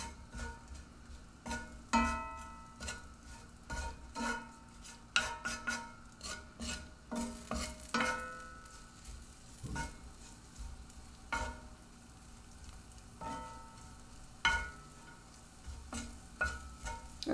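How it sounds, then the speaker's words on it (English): Spices (cumin, paprika and cayenne) sizzle in a pan for shakshuka, a soft steady frying hiss broken by repeated scraping and stirring clatters, close up with no talking. "Okay, I got my sizzle back."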